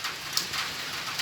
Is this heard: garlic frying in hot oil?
no